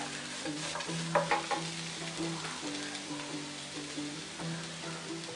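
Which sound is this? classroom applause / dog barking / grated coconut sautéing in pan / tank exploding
grated coconut sautéing in pan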